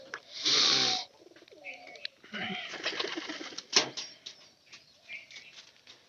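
A nesting pair of pigeons that has just laid eggs coos nearby in soft, throaty rolling calls, with one loud burst near the start and quieter murmurs and faint movement after.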